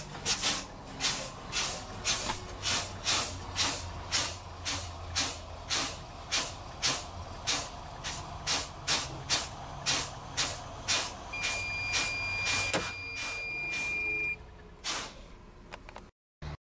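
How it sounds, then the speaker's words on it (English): A truck's air brake pedal is pumped repeatedly during an air leak down test, each press releasing a sharp hiss of air in a steady rhythm of about two per second, with a high-pitched alarm tone sounding near the end. "Now we're going to do the air leak down test by pumping the pedal."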